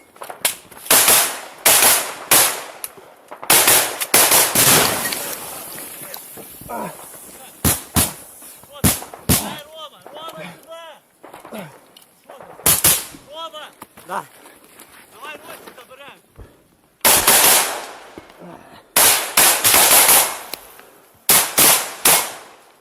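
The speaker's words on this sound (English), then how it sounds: "They keep firing into the trench" Gunfire during trench combat, with sharp loud cracks in irregular bursts and single shots, some rapid strings, between quieter gaps, while voices shout and talk throughout.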